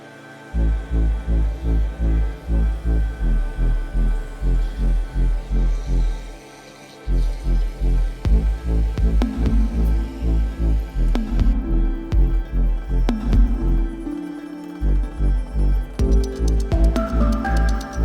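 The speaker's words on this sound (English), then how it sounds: "they'll go ahead and swing the aft end of the building over using the" Rhythmic throbbing hum of a truck trailer's hydraulic system working to swing a General Shelters Cedar View cabin building, pulsing steadily with brief pauses and a layered engine drone throughout.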